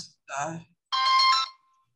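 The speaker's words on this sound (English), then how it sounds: "Is that somebody's phone?" A phone rings during an online Hebrew class, two short electronic tone bursts, the second longer and brighter, clear and fairly loud.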